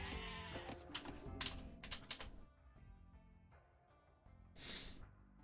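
Sheep bleat in Age of Empires II, a couple of short bleats amid busy game effects and keyboard typing, the clearest cry rising near the end.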